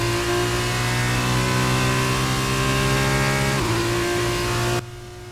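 Williams Formula 1 car engine in the F1 2019 racing game, a loud high-revving whine climbing steadily through a lap, briefly dipping before cutting off abruptly near the end.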